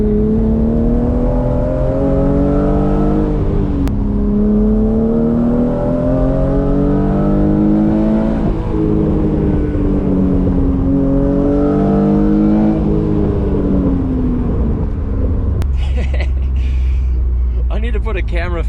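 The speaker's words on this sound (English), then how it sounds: "the exhaust setup on this car, I feel like it's all exhaust sound down low in the RPMs" BMW E36 M3 with headers driven hard on a street drift run, the loud engine and exhaust rising and falling through repeated revs, heard from inside the car.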